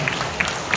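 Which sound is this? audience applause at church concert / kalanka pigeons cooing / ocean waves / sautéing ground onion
audience applause at church concert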